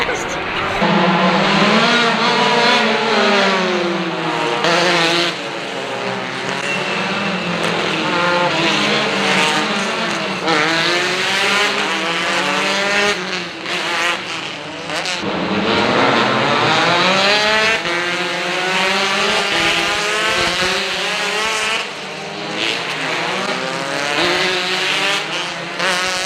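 Race cars roar continuously at the St Petersburg Grand Prix street circuit, loud engine whine rising and falling as the cars speed past behind the pace car, with voices faintly beneath.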